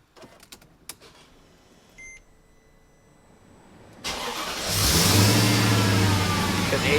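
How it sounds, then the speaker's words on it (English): A few clicks and a short whir, then a Mercedes E55's supercharged M113K engine with an upgraded 92mm throttle body cranks and catches on its first start, settling into a loud, steady idle close by. "So we're going to try the first fire up and see how it sounds"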